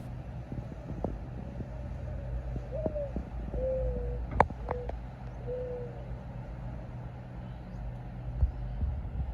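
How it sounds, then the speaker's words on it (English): A mourning dove calls outdoors with several soft, low, drawn-out cooing notes at a moderate distance over a steady background hum, with a few faint clicks. "That vocalization you just heard was of the mourning bird."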